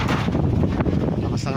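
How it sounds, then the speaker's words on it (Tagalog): Strong wind buffets the microphone on a one-hectare farm lot with poultry buildings and cattle pens in Pila, Laguna, a loud, unbroken roaring rumble with gusty surges throughout the brief moment. "Lakas ng hangin."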